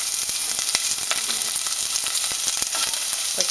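Onions sizzle in olive oil in a pot, a steady close crackle with scattered sharp pops and no talking.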